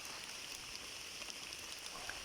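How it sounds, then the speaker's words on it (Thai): Steady rain patters on a rubber plantation during tapping, a dense even hiss of drops with occasional closer taps, continuous and fairly soft with no talking. "แต่ฝนตกเป๊กเป๊กเป๊ก"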